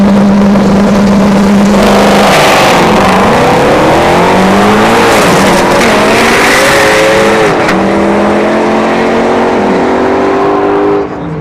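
A drag race car revs hard and continuously at ShowTime Dragstrip during a test-and-tune session, its loud engine pitch climbing and dropping through repeated throttle surges over the full stretch.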